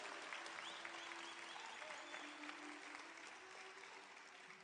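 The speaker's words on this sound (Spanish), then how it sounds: "Den un aplauso al Señor Jesucristo" A church congregation applauding steadily throughout, a dense wash of clapping that slowly eases off toward the end.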